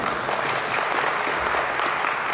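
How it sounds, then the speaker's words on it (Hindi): Loud, even applause from an audience at a blockchain business event in Raipur, Chhattisgarh, a dense wash of clapping holding steady throughout without pause. "तो ग्लोबल फाउंडेशन इकोसिस्टम के लिए जोरदार तालियां दीजिए"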